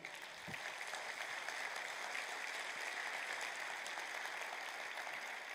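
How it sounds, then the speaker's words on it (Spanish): A church congregation applauds during a Spanish-language sermon, a steady sustained clapping from a crowd at moderate distance. The applause does not change for several seconds. "Dale un aplauso a Cristo."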